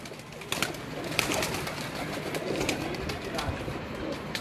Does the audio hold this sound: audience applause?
no